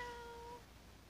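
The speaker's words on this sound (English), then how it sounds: "Cat." A single short cat meow played as a sound cue in an online English lesson, clear and fairly faint, ending abruptly and followed by quiet.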